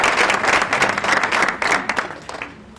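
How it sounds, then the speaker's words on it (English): Audience applause at a Beyond the Bars plenary session, a dense wash of steady clapping from a crowd that holds strong for about three seconds before thinning slightly toward the end. "Give them a round of applause."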